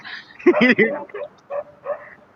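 A dog gives a short burst of yelping barks followed by a few spaced yips, heard close and mixed with a person talking.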